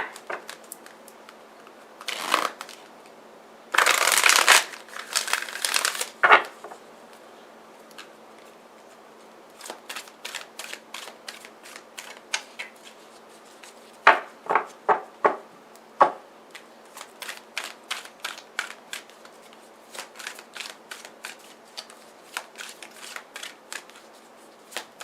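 A deck of tarot cards being shuffled close up: bursts of riffling and a long dense flutter, then many sharp separate card snaps and slaps in irregular runs, with no one talking.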